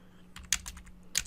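Keystrokes on a computer keyboard while writing JavaScript code for a contact form, a few soft scattered taps followed by a sharper cluster of clicks, close and alone with no talk.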